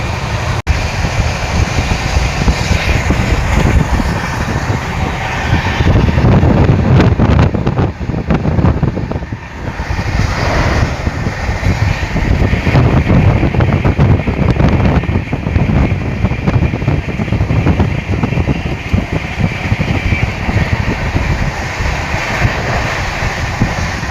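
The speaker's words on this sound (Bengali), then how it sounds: "এখন ট্রেন চলতেছে 1 মিনিটে 2 কিলোমিটার।" A train runs at high speed, making a loud, unbroken roar and rumble with heavy wind buffeting throughout, as heard close up from on board.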